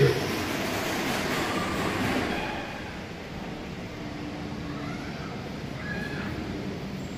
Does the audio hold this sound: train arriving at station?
yes